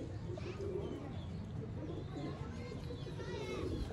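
Sialkoti fancy pigeons coo in a loft, soft low repeated calls blending into a steady wash of background noise, with faint voices and scattered chirps nearby.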